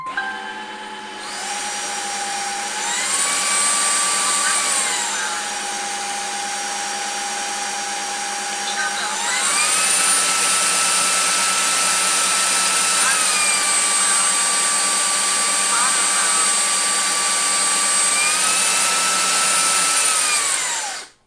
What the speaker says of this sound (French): ça vous donnera une indication de quand vous allez pouvoir utiliser cet aspirateur-là